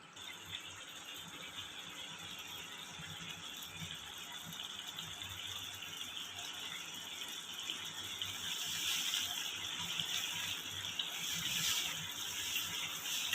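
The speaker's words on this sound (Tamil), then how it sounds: "இது நல்லா கிரேவி ஆகிற வரைக்கும் கொதிக்க விடலாம்" Capsicum gravy with water added simmers in a pan, a faint steady bubbling hiss with small irregular pops that grows slightly louder toward the end, with no voices.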